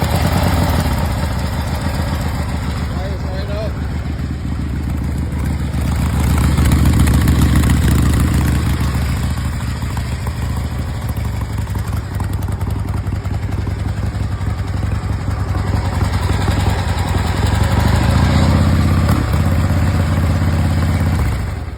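A vintage Harley-Davidson Roadster with custom character idles and revs steadily up close, a loud, continuous engine drone with slight swells in pitch and mechanical clatter throughout.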